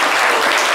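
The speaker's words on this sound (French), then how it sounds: "On applaudit." A brief burst of audience applause, loud and dense hand clapping lasting under a second.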